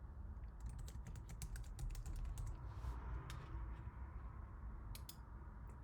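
Typing on a computer keyboard, entering a problem description into a code judge web application: a steady run of close, crisp key clicks in quick irregular bursts over a low background hum, with no talking.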